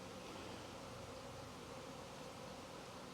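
A swarm of honey bees flies around the spot where their hive was, a steady, faint, continuous buzzing hum with no pauses.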